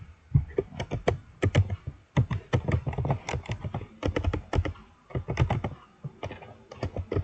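Steady, fast typing on a computer keyboard while entering C++ code in Dev C++, dense runs of crisp close key clicks with brief pauses between bursts.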